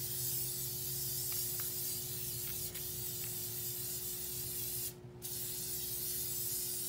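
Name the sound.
spraying adhesive on jar tumbler before glitter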